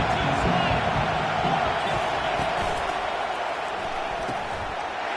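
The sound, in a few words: stadium crowd cheering at college football game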